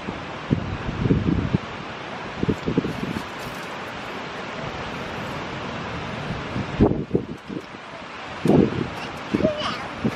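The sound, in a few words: wind at a lake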